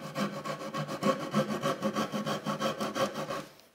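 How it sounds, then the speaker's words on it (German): A hand saw cuts wood at a 10-degree angle for a garden bench, making steady, evenly spaced back-and-forth rasping strokes up close, about a dozen in quick rhythm before stopping. "Ich säge also auf eurer Seite bis zum oberen Strich und auf meiner bis zum unteren."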